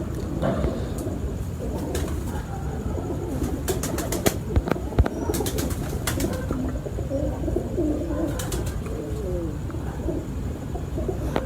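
Racing pigeons in a loft give low, throaty coos in slow rolling phrases, close and steady, with occasional sharp clicks and faint scuffling among them.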